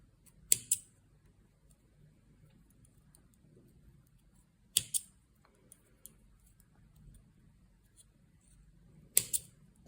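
Scissors snip through crochet yarn ends on a small flower, three sharp, quiet cuts spaced a few seconds apart with near silence between.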